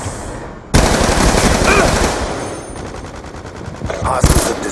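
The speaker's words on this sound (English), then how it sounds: "Sentry gun ready to deploy." A deployable sentry gun fires in a first-person military shooter, with dense rapid automatic bursts starting abruptly, easing, then returning, loud and close amid game noise.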